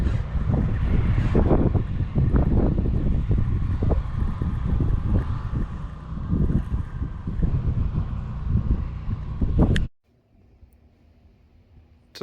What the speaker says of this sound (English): Definitely is a really windy day out here right now